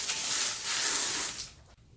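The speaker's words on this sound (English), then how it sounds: "We'll go ahead and spray our cleaner on." Wheel cleaner sprayed onto a wheel rim with the tire off gives one long, steady, close hiss for about a second and a half before cutting off sharply.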